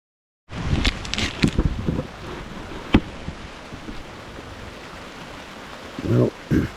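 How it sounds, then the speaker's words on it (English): Rain patters on a tent at a beach wild camp at Fairlight Glen near Hastings, a soft steady hiss from inside broken by close rustles, thumps and a sharp tap. "just popped inside the tent for a little while because, as you can see, in here it's raining."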